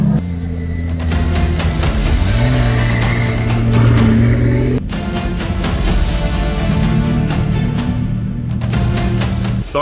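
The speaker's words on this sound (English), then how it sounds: "it's still good to hear what these crazy super and hypercars sound like that are here at this event" Supercar and hypercar engines, including a C8 Z06, Lamborghini Revuelto and Porsche 911 992 GT3 RS, rev loudly at a car event, pitch rising and falling, with a sharp cut partway through.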